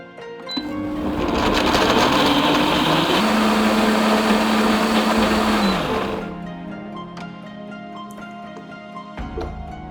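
A blender whirs loudly for several seconds pureeing red dates with water, sugar and salt, its motor pitch shifting, then winds down, followed by quieter clattering.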